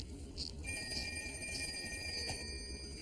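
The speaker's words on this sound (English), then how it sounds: "A ringing phone." A telephone bell rings steadily in a bright, continuous trill, close and fairly clear, with no one talking over it.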